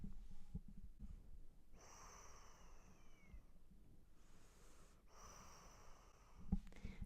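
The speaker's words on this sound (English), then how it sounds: "I wonder if you can hear her breathing." Nyla, an emotional support pet, breathes and snorts close by, soft nasal snorts and airy breaths coming in a couple of slow rounds with a small bump near the end, quiet and without talk.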